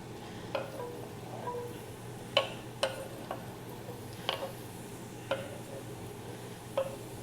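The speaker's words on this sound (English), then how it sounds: "We're going to saute our onions" Chopped onions sautéing in olive oil, a steady low sizzle of moderate loudness, broken by a handful of sharp clicks and taps at irregular intervals, with no voices.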